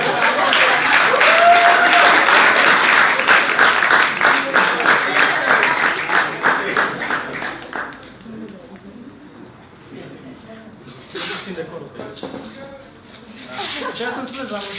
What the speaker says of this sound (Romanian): să-l aplaudăm pe Ionuț Costel Drăgan